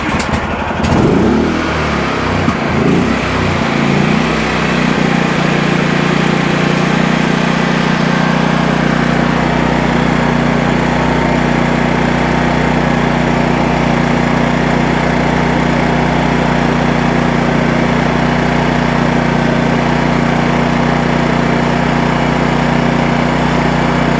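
A tri-fuel portable generator engine running on gasoline starts up and then holds a loud, steady running drone, with no talking.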